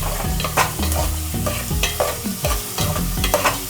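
Onions fry in hot oil for a fish curry, crackling and sizzling close by while a utensil stirs and scrapes the pan in repeated strokes.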